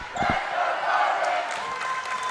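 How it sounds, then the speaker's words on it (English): Volleyball serve at a high school match between Arlington and Bartlett in a gym, with a couple of sharp ball hits early on, over a buzzing crowd and commentary. "Arlington is going to serve the ball."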